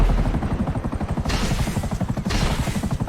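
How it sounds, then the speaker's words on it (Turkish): A military attack helicopter in GTA V thumps with steady rapid rotor chop and a deep engine drone, loud and close, with brief swells of rushing turbine noise and no talk. "Şu var savaş helikopteri."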